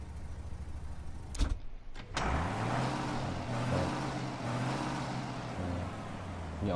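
A classic car in the video game Mafia Definitive Edition starts with a brief mechanical clunk, then its engine rises into a sustained, rising rev and settles into a steady droning hum.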